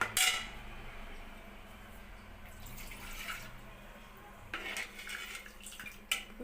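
Water splashes and trickles into a metal pan of sambar for sambar vada, with clinks of utensils against the cookware throughout.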